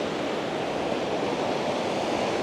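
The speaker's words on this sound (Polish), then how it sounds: "są bardzo duże fale, słuchajcie" A steady, full roar of surf with no letup, broadband and constant, like big waves breaking close by.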